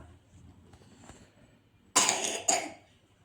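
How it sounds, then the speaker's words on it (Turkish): A child coughs twice in quick succession, close and sharp, after a few quiet seconds of faint background sound. "Öksür bakalım"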